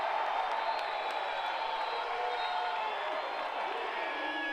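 Basketball arena crowd roars and cheers after a São José player's dunk, a dense sustained wall of voices filling the space with no distinct speech.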